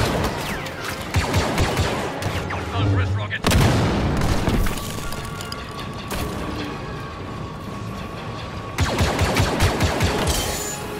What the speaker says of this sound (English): Wrist rocket.